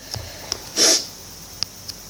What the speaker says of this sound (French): excusez-moi si je renifle un petit peu